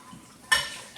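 Plates clatter during dishwashing, a single sharp clinking impact of crockery against crockery, close and fairly loud over a quiet background.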